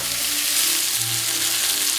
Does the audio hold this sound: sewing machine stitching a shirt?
no